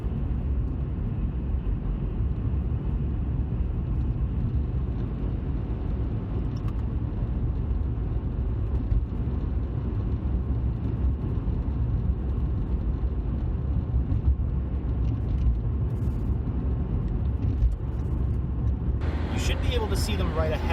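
Steady road rumble from a car driving with a dash cam recording, a continuous low drone of engine and tyre noise throughout, with a brief brighter whoosh near the end as another vehicle passes.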